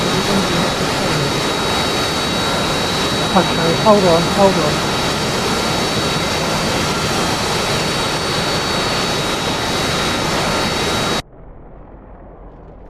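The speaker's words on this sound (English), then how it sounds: "Sorry I can't really hear you over the engine of the plane." Jet aircraft engine in the DCS flight simulator game, a loud steady roar with a high whine running almost throughout, then cutting off abruptly near the end, with a brief spoken remark over it.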